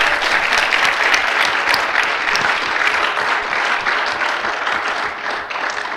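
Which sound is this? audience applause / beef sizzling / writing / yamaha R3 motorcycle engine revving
audience applause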